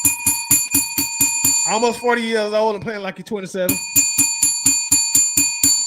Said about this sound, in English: Let's ring the bell for the old man playing like a young man.